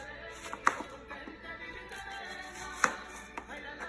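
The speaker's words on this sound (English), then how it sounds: "We're gonna slice it like this" A knife slices through a single yellow onion on a cutting board, two sharper chops standing out among quieter, irregular cuts, close and fairly faint with no talking.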